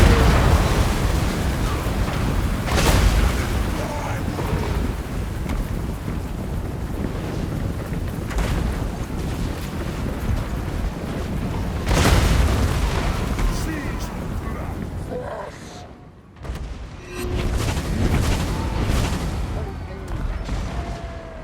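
Artillery fire in a Warhammer battle game, with repeated heavy booms and rumbling blasts spaced over a dense, windy roar of battle noise, one brief drop to quiet near the end.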